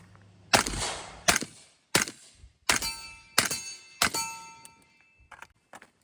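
A suppressed PSA Sabre pistol with a braced 300 Blackout build and a 30 caliber can fires about seven separate shots outdoors, each a sharp loud crack with a short ringing tail, spaced unevenly about a second apart.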